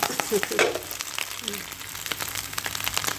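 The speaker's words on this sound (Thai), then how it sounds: "ทอด" Batter frying crisply in hot oil, with a steady busy sizzle and crackle and a few soft stirring clatters, close and moderately loud, with a voice speaking briefly over it.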